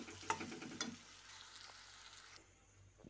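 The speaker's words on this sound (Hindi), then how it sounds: "और धीमी आंच करके मैं इसको चलाऊंगी।" Tomato, onion, ginger and garlic masala is stirred in a kadhai over a low flame, faint scraping strokes at first, then a soft steady sizzle, quiet and close with no talking.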